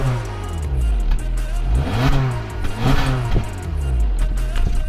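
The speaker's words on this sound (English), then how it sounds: "I want you to listen to the sound of the muffler" Exhaust note of a Honda City with a 1.5-liter naturally aspirated engine, revving up and down in several loud, close surges with a rough low rumble.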